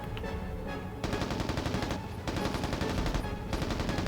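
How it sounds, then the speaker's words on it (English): Rapid automatic fire from a prototype rifle in the video game Mercenaries: Playground of Destruction, loud and dense, with bursts pausing briefly before resuming over about four seconds. "Let me try it real quick with the prototype rifle before it despawns."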